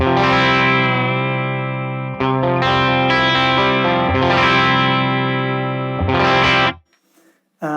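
Electric guitar played through a Tone King Imperial neural amp plugin rings out in sustained, driven chords with a few restrikes, loud and upfront, before cutting to near silence at the end.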